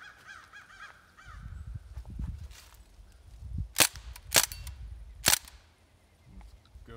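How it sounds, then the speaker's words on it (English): A Bushmaster MPW automatic BB gun fires three sharp, loud cracking shots, spaced about half a second to a second apart, against faint background noise. "Let's put some rounds down range and see what happens."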